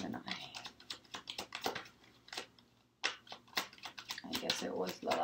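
A tarot card deck being shuffled, close rapid riffling and flicking bursts with a short pause midway, while a person talks over it.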